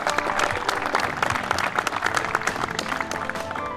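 An outdoor audience at Riverton Country Club during a PGA HOPE Cup golf event applauds the hosting staff, a dense, steady patter of many hands clapping at once for several seconds.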